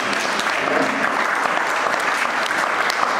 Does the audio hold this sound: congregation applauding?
yes